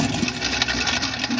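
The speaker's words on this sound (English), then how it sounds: "Now we're going to mix it on high speed for about 3 minutes." An electric mixer beats butter with honey on high speed for muffin batter, a close, loud, steady motorised whir with a slight pulsing rhythm and no talk.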